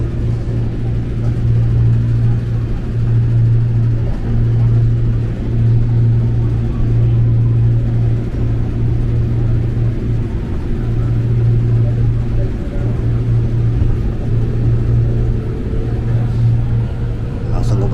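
A KRL commuter train near Cakung and Pulau Gebang speeds along, heard from inside as a constant loud low rumble and drone with steady rolling noise and a slight humming tone throughout.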